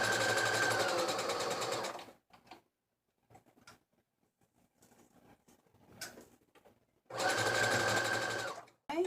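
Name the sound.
sewing machine stitching fabric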